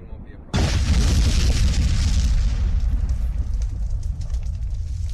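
A staged outdoor explosion effect in the desert bursts in sharply after a brief quiet lead-in, then a loud, sustained rumbling roar of blasting and kicked-up dirt fills the rest, slowly easing but staying dense.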